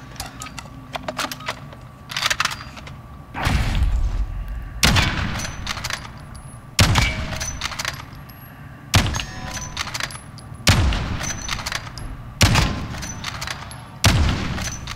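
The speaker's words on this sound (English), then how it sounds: "I'm aiming and shooting too fast." Weapon fire in the video game Modern Warfare, loud single shots spaced about a second or two apart, each with a sharp crack and booming tail, plus small clicks and clinks between them.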